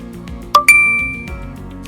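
A notification ding from a bus attendance app, two bright chimes about a tenth of a second apart, the second ringing out and slowly fading, heard clearly with no talk.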